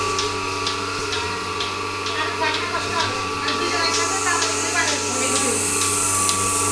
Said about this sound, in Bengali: এটা হলো তুরস্কের দুধ দহন মেশিন, মিলাস্তি মিল্কিং মেশিন